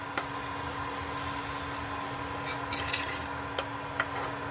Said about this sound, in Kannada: ಇದಕ್ಕೆ ಒಗ್ಗರಣೆ ಹಾಕ್ಕೋಬೇಕು ಅಷ್ಟೇ